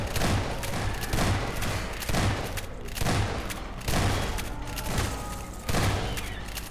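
Rhythmic bursts of automatic gunfire aimed at headcrabs in a Garry's Mod horror map game, loud, close volleys repeating roughly every second with brief dips between them.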